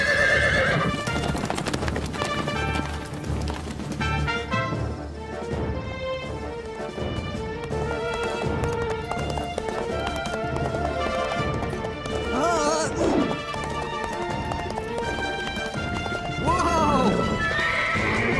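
A cartoon horse gallops with rapid clip-clop hoofbeats and gives loud neighs and whinnies, set among a busy Revolutionary War-era scene with music and voices speaking throughout.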